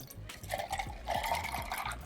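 Liquid pours into a glass for a lightly bubbly summer drink with a sugared rim, a soft close trickle and fizz lasting about two seconds at low level.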